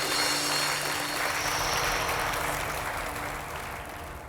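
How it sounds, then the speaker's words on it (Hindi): Applause from a school audience, a steady broad wash of clapping that holds evenly and then fades slightly toward the end, with no talking over it. "प्लीज जोरदार तालियां सुधीर जी"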